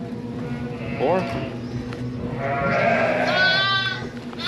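Baby lambs bleat in a wet pen, several wavering cries close by, one short call and then a longer drawn-out bleat, over steady background noise and someone talking.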